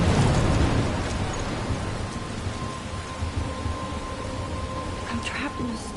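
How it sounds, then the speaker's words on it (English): A storm in the video game Life is Strange, with steady heavy rain hissing and a deep thunder rumble rolling loudest at the start, then easing into a constant downpour; a voice speaks briefly over it. "I'm trapped in a storm?"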